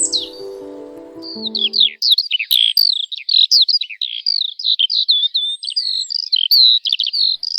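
Skylark song in spring: a long, continuous stream of high, rapid trilling and warbling chirps, bright and fairly close, following a brief low musical tone at the start.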